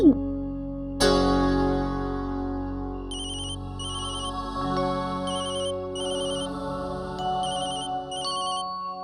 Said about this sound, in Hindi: तो नैतिक जी का फोन है